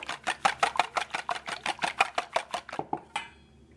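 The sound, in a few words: whisking eggs in a mixing bowl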